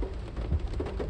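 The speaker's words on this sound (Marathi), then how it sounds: "आणि पाऊस जोरात पडत आहे." Heavy rain falls during a traffic jam on a damaged road near the Mulund check naka on the way to Thane, heard as a dense, steady wash of rain with low rumbling underneath and no voices.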